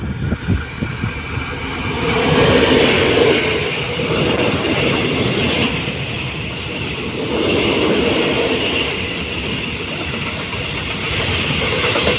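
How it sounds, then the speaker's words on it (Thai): A freight train, number 556, rumbles past a rural stop in Thailand, loud and close with rhythmic clickety-clack of wagons swelling and fading as the cars roll by, no speech. "ขบวนสินค้าที่ 556 นะครับ"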